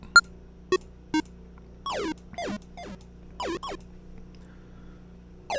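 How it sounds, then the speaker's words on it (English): Scattered short electronic square-wave bleeps and gliding synth tones in FL Studio, some clicks, over a low steady hum, with gaps of near silence between. "It sounds like a square wave."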